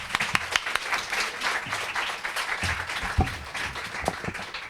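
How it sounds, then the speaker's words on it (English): An audience at an evening literary event with novelist Han Kang applauds. Scattered, moderately loud clapping runs through the whole clip, with uneven claps and no talk over it. "Please join me in applauding for Hanga."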